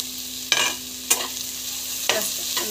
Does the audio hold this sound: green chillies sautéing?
yes